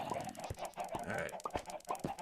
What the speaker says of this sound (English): Quiet, you chickens! Boy, these guys are loud.